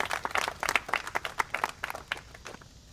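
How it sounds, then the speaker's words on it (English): A small crowd of residents gives a brief round of applause at an outdoor house groundbreaking, scattered moderate claps that thin out toward the end. "we want to just give them a round of applause as well"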